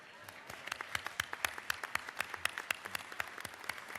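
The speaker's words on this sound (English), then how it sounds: "please rise and give Henry County a nice big clap" Sparse applause in the Georgia House chamber for Henry County, a scattering of individual hand claps, fairly distant and moderate, with faint voices underneath.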